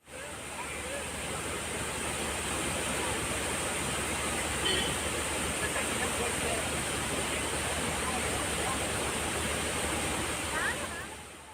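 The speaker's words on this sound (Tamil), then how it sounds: "தண்ணீர் ஆர்ப்பரித்து கொட்டுவதால்" Dense, continuous roar of a waterfall in heavy flood after rain in Tamil Nadu, a broad rushing wash that holds steady throughout with no voices.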